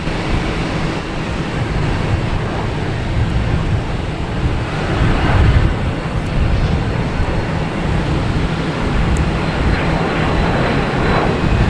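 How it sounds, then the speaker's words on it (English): An Air France airliner on a runway at Boston Logan Airport gives a loud, steady, broadband jet roar mixed with wind noise, heard from a distance with no voices. "And we have Air France lining up on 4 right."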